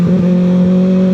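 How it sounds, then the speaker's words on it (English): Kawasaki ZX6R sport motorcycle exhaust heard while riding, a steady droning engine note with strong low harmonics, held constant and loud throughout with no talk. "So hopefully I can still capture some of the bike's exhaust."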